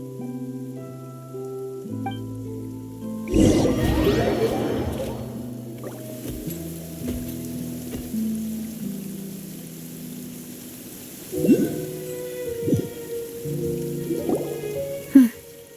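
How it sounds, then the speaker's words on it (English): Steady rain falls in the Genshin Impact video game, a soft continuous patter beneath a sustained musical score, with a few louder splashy swells partway through and no voices. "It's been raining non-stop for a few days now."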